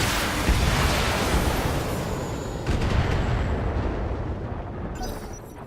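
Mech weapons firing all at once in the Battletech game, a dense, roaring wall of explosive blasts and rumbling impacts that holds steady and loud for several seconds before easing slightly.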